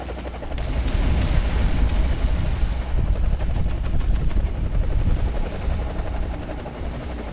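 A helicopter in War Thunder whirs with a heavy, close rotor drone, joined by rapid bursts of gunfire and booming impacts that swell and fade over several seconds.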